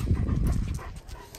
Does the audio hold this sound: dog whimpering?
yes